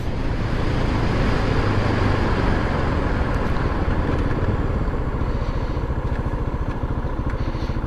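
Husqvarna 701 motorcycle cruising at speed on a motorway, a steady loud engine drone with heavy wind rush and road roar running unbroken throughout.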